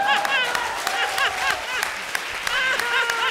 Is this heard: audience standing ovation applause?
yes